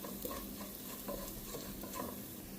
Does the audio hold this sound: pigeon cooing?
no